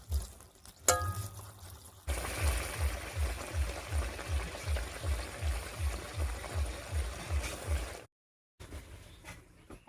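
Water poured into a pan of cooking flat-bean curry makes a close, rhythmic glugging and splashing for several seconds, then cuts off abruptly.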